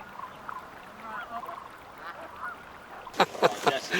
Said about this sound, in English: we even have nene geese helping us with the packing of the duffel bags